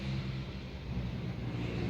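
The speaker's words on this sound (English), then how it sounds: "it's somebody's on a motorbike revving up" A motorbike engine drones steadily with a low rumbling roar, sustained and fairly loud throughout, as the bike is revved nearby on a road.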